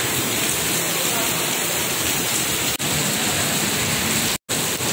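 Heavy rain pours down steadily in a dense, constant roar, with a brief dropout near the end.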